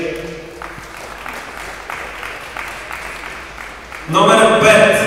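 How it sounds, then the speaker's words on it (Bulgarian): Applause at a Dobrich awards ceremony for the best athletes, teams and coaches of 2017, honouring athlete Iliyan Iliev: a voice speaks over a low room murmur, then clapping from the crowd bursts in loudly during the final second. "Аплодисменти за Илиян Илиев."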